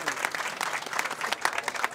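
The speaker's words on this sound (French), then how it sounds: "je vous demande d'applaudir pour ces gens-là" A crowd applauding at a donation event, a dense, continuous burst of clapping that stays loud and even for its whole length.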